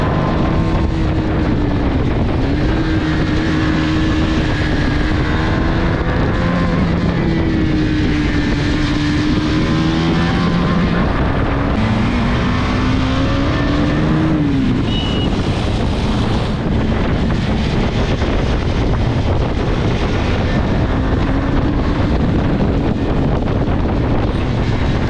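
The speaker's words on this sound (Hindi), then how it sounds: "ये देखिए यहाँ पे बहुत अच्छे तरीके से मैंने बाइक को खींचने की कोशिश की" A KTM motorcycle accelerates hard along a road, its engine note climbing in repeated surges through the gears beneath heavy, constant wind buffeting on the microphone.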